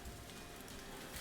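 Steady rain heard through an open window, a faint, even hiss of falling drops with no other sounds standing out.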